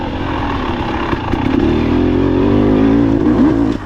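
A Husqvarna TE 300 two-stroke dirt bike runs on a forest trail loop, its engine loud and close, a constant buzzing drone that rises into a sustained rev and holds high with slight wavering.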